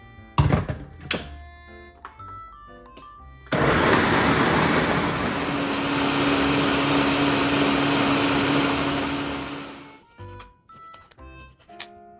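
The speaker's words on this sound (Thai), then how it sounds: "ในบ้านลูกใหม่ใช้เครื่องปั่น" An electric blender grinding fish-sauce ingredients whirs loudly for several seconds with a steady grinding motor roar, preceded and followed by clattering knocks and handling sounds.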